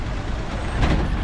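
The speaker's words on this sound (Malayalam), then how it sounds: "വള്ളിയാങ്കാവ് പോയിട്ട് വരുന്ന ബസ്സാണ്." A bus returning from Valliyankavu passes on the road near Manikkal bridge, a close, loud low engine rumble with a brief hiss-like swell near the end.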